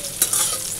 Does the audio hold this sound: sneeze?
no